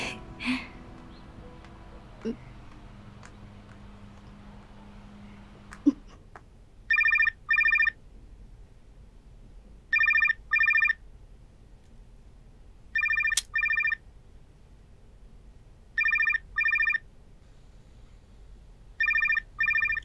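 A telephone rings in a Saigon hotel room, sounding as five evenly spaced pairs of bright electronic trills after a few scattered knocks and rustles, loud and close against an otherwise quiet room.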